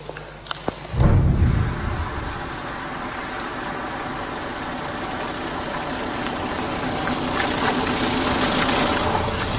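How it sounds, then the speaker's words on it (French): A car stopped at a customs checkpoint idles after a short thump, settling into a steady, low engine rumble that continues evenly, with no voices heard. "Vous pouvez couper le moteur?"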